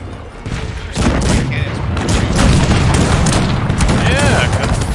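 Dense gunfire and booming volleys from the video game Cossacks 3 build to a loud, continuous barrage, with overlapping voices speaking through the battle.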